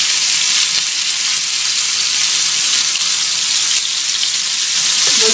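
Dum kebabs frying in a pan give off a steady, loud, continuous hissing sizzle held close and unbroken throughout, with no voices.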